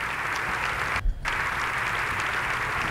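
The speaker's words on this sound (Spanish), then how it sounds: "todos ellos se merecen un fuerte aplauso" Sustained audience applause at a live awards ceremony broadcast on radio, dense and steady for three seconds apart from a brief dip near the one-second mark.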